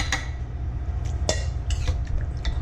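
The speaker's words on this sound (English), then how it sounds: "I'm going to remove the vegetables, leaving the liquid" Utensils lifting cooked vegetables out of a slow cooker of beef daube, a few scattered metallic clinks and scrapes against the pot over a low rumbling background, no voices.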